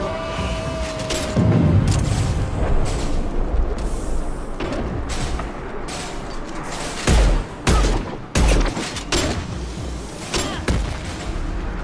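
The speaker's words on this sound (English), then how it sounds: "Firing concussive shots." Concussive shots fired in Mass Effect 2 land as heavy, punchy thumps among scattered gunshots and booming impacts, several sharp low blasts clustered together amid busy combat noise.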